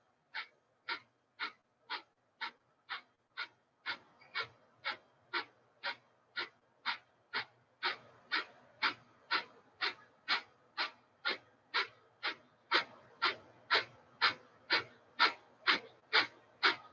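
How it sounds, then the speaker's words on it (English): Slow, even breathing in and out through the nose during a mindful movement meditation, about thirty soft, close airy breaths in a steady rhythm with no talking. "Inhale through the nose. Exhale through the nose."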